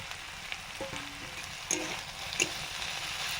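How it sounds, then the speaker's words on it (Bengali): Fried prawns added to a pan of sizzling oil with vegetable stems, a continuous close hiss of frying with a couple of soft stirring scrapes. "এবারে দিচ্ছি চিংড়ি মাছ ভাজা"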